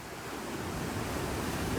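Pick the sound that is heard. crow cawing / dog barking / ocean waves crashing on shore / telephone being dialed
ocean waves crashing on shore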